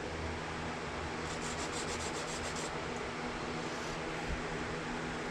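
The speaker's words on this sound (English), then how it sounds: "I'm going to sand a little taper on this" A small wooden model ship part gets a taper sanded onto it, a continuous close rubbing rasp with a short burst of quick rhythmic strokes, over a constant background hum.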